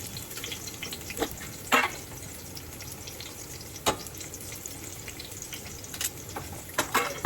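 Ginger garlic paste, chopped green chilies and cumin seeds fry in hot oil, a steady soft sizzle with a few sharper crackles and clinks scattered through, close by with no talking.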